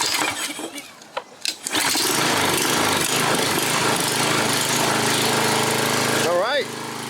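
A Craftsman 28-inch walk-behind engine starts after a few handling knocks, then runs at a loud, steady idle while warming up, its drone close and constant throughout.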